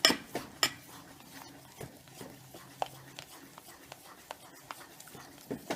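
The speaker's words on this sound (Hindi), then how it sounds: "घोल डालने के बाद हमको इसको लगातार चलाना है।" A ladle stirs a thin maida flour batter in a cooking pot for sour papad, making light scraping clinks against the metal at an irregular pace, close and quiet, with a voice speaking over it.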